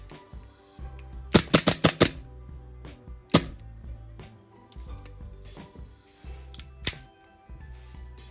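Airsoft Glock 17 pistol, a built-up custom gun, firing large tracer BBs: a quick burst of about five sharp cracks, then single shots spaced over several seconds, loud and close with no talking.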